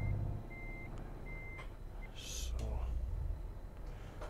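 Reversing beeps from a truck in a truck simulator video game, a steady run of evenly spaced beeps over engine rumble, with a hiss of air and voices talking quietly underneath.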